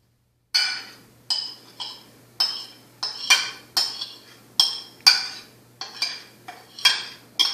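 A metal fork stirring liquid in a dish for peanut butter brownies, a steady series of about a dozen bright clinks against the bowl, close and fairly loud, with no talking.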